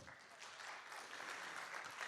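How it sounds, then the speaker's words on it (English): A congress audience applauds a keynote speaker. The clapping is faint and distant and lasts about two seconds. "So a big applause for Wouter"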